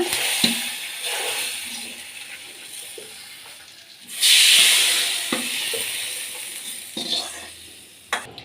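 Fried tempering of chilli pieces in oil tipped into buttermilk: quiet stirring, then a sudden loud hiss and sizzle that fades over a few seconds, with a couple of soft clinks afterward.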